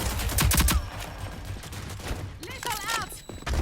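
Rapid bursts of automatic gunfire crackle close and loud in a shooter video game, then fade as a voice speaks briefly over the firefight.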